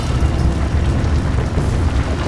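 Blasts and roaring flames from a burning 29-car chain collision on the Seohae Bridge, with spilled fuel feeding the fire: a heavy, dense low rumble, loud and near, sustained throughout with slight surges and no voices.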